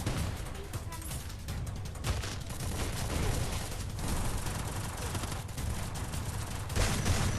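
Gunfire rattles through a round of the video game Free Fire played with shotguns, as a dense, continuous barrage of shots and impacts, loud and close, with sharper bursts near the end.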